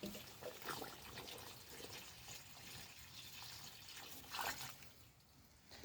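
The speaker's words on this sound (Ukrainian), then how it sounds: "щедро поливаємо водою" Warm water is poured generously into freshly dug planting holes filled with universal soil in a greenhouse, giving quiet splashing and trickling with two brief louder pours.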